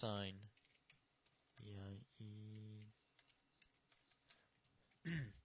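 Faint keyboard clicks tap away in the gaps between short bursts of someone talking.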